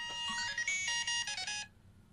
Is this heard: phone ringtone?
yes